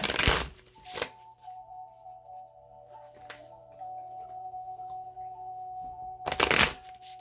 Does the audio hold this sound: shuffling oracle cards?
yes